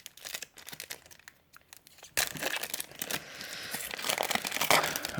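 Crinkly foil wrapper of a Pokémon trading card booster pack from the Astres Radieux set being torn and crumpled open up close, quiet at first, then a sharper rip and a run of dense rustling and crackling.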